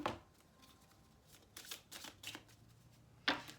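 Tarot cards handled and laid out on a table, with soft shuffling and sliding rustles in several short bursts and a sharper card snap near the end, close and fairly quiet.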